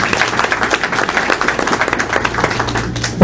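Indoor crowd applause at a reception for Ivorian officials at an embassy in Washington, a steady dense patter of many hands clapping continuously and fairly loud throughout, with no single voice standing out.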